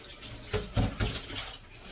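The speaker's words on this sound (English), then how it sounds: "let me just rinse my hands" Tap water running over hands being rinsed at a kitchen sink, a short splashing burst that swells and fades, close and moderately loud with no talk.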